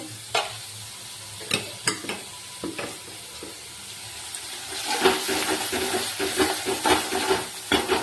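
Spices are fried down in oil for a fish kalia, with scattered sharp spoon knocks against the pan at first, then a denser crackling sizzle and rhythmic stirring scrapes, close and steady.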